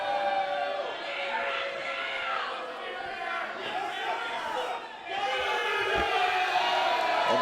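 Wrestling arena crowd roars and cheers steadily, a dense wall of voices with whoops throughout, dipping briefly before surging back up loud.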